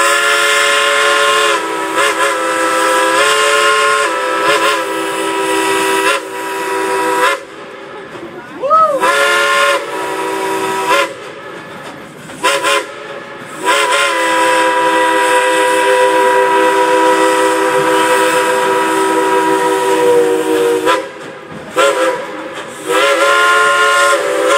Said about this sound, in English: 1, 2, 3, blow the whistle!